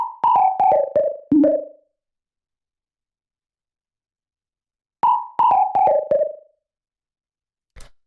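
A short synth lead phrase for tech house at 125 BPM, a quick run of plucky descending notes played twice with a gap of silence between, dry and up front.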